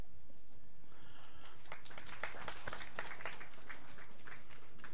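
Scattered applause from a crowd at the Women's 10m Air Rifle Standing SH1 final in Chateauroux, 2018, claps building after a moment of quiet and continuing steadily with some louder individual claps.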